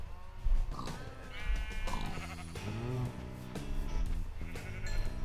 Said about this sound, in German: Ein Schaf.